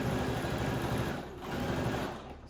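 A sewing machine runs continuously and close by, stitching a bag's seam allowance to its lining with a steady mechanical whir that dips briefly partway through.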